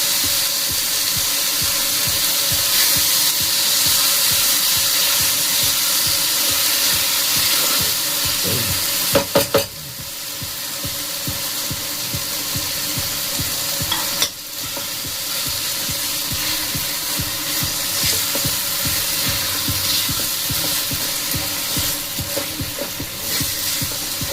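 Crumbled homemade paneer (chhana) stirred and fried in a pan of spiced masala for paneer bharta, a steady close sizzle with scraping spatula strokes and a couple of sharp knocks, running without pause.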